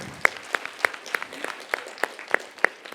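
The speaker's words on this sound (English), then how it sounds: "Round of applause for her." Sparse, evenly spaced claps, about three per second, ring out in a mentors' session hall, crisp and fairly close against a quiet background, suggesting only a few hands clapping for an audience member.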